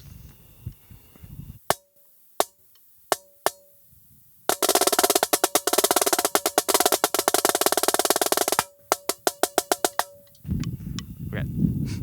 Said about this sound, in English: we start playing triplet rolls with different accents